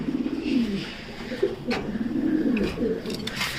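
Racer pigeons with their chicks coo in soft, repeated low rolling phrases close by, with a few faint sharper calls mixed in.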